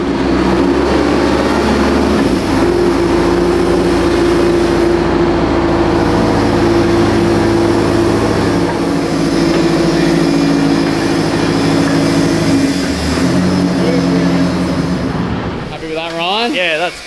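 A tank engine runs hard during a workshop stress test, a loud, steady, close-up drone with deep rumbling tones that holds without a break, easing only briefly near the end.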